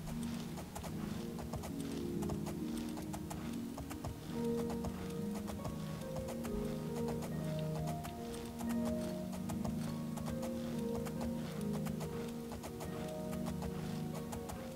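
A horse running in the game Oblivion, with rhythmic clip-clop hoofbeats at a steady gallop, fairly close and continuous, over a layer of tonal background music.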